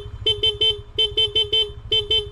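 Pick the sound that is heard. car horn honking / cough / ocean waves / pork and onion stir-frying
car horn honking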